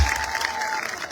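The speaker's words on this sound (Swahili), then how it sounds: "Makofi." A crowd applauds in a short, dense burst of clapping, with faint voices underneath.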